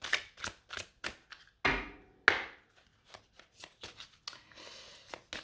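Angel oracle cards shuffled for a reading, giving crisp, close riffling bursts and taps in an uneven rhythm, with two longer fluttering riffles partway through.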